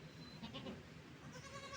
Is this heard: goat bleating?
yes